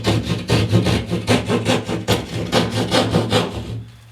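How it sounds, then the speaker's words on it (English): A hand drywall saw cuts through a drywall panel, giving a steady series of rasping back-and-forth strokes, close and fairly loud, that stop just before the end. "So I'm just going to take my drywall saw and"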